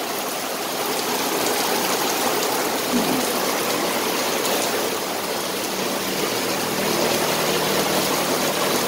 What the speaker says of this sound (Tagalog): Ayan ang agos o.